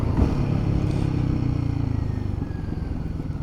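A Royal Enfield Guerrilla 450 motorcycle engine runs loud and close, a throbbing single-cylinder note that swells briefly and then settles into a steady idle-like rumble.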